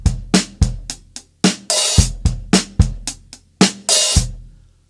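Two bars on a drum kit with an open hi-hat, loud and close: punchy kick and snare hits in a steady rhythm, with bright, sustained washes of open hi-hat ringing between them and no talking.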